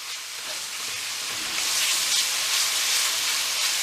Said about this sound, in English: I'm going to give everything a good stir